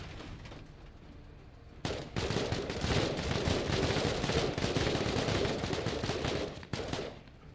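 Heavy automatic gunfire in a video game bursts in after a quieter start and holds as a sustained, dense barrage for several seconds before dropping back.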